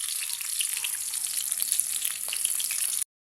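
Bangus (milkfish) fries in a pan with a loud, continuous hiss and crackling sizzle that stops abruptly at the end.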